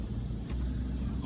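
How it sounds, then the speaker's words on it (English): Low steady rumble inside a car going through an automatic car wash, with a brief bright splash or spray burst midway and a faint voice underneath. "Car wash, yeah, we're washing the car."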